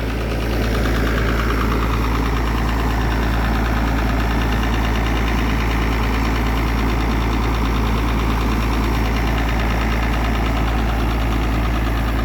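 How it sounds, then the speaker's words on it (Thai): A GO e 8C Turbo engine of roughly 260 horsepower runs at a gently raised speed, a loud, steady, close droning rumble held evenly throughout with no voices. "เครื่อง GO e 8C Turbo ครับ อาจจะ 2 260 แรงม้า นี่ ครับ เร่งเครื่องเบาๆครับ"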